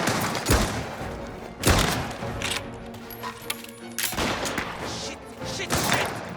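Gunfire in the crime game Mafia: The Old Country, several heavy bursts of shots spaced a second or two apart, loud and close, with quieter scuffling and movement between them.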